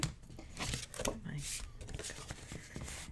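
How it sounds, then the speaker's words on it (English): Adhesive tape peeled up during paper crafting on a small mini album, giving a few short crinkly tearing rips at close range, mixed with paper rustling and a voice talking throughout. "I'm just going to pull up a little bit of this tape."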